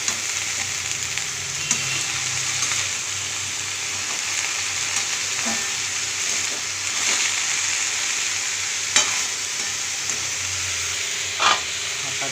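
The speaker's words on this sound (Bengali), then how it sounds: "তো এটাকে এবার ভাজতে দেবো আমি।" Potato with garlic leaves, salted and seasoned with turmeric, fries in a pan with a steady close hissing sizzle, broken now and then by brief clicks of stirring.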